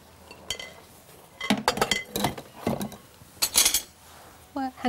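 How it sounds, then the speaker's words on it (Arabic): Fruit set into a serving dish for a coconut pudding fruit salad, with clustered clinks and knocks of dishes and utensils in quick bursts, fairly close, and a brief voice near the end. "هنحط الفواكه في طبق التقديم."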